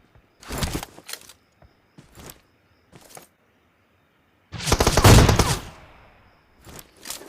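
Gunfire from an AWM sniper rifle in PUBG Mobile, heard as a few sharp cracks and then one louder, longer blast with a fading tail, separated by quiet gaps.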